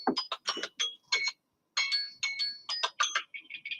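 A phone rings with an incoming call, its electronic ringtone playing as a series of bright, repeating tonal chirps in short bursts, fairly close and heard alone.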